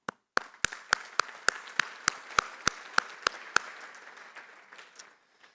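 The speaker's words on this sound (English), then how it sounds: "Let me give you a round of applause really quick." Sparse, evenly spaced claps, apparently from just a few hands, echo in a large hall at an electronics conference keynote, each clap sharp and ringing before the sound dies away.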